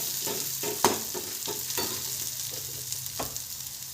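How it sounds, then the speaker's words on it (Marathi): Ground peanuts sauté with roasted garlic in a pan, giving a soft, continuous sizzle under repeated scraping strokes of a spoon, close and fairly quiet. "त्याच्यात मी दाणे मिक्सरमधून काढून घेतलेले ते टाकणार आहे आणि ते थोडेसे परतून"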